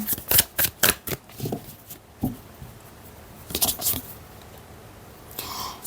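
Tarot cards being shuffled close up, a series of crisp riffling bursts in quick succession, a pause, then a few more flutters and a final soft riffle, with faint quiet speech in between.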